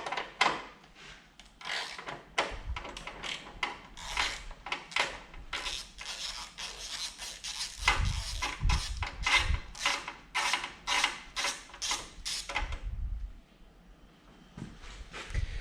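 Spark plugs come out of a warm John Deere 318 engine with a rapid series of close metallic ratcheting clicks, pausing briefly and then resuming, with a few dull knocks mixed in.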